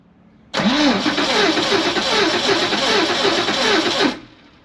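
A car engine cranks with a rapid rhythmic churn of the starter for several seconds, loud and close, then cuts off without catching.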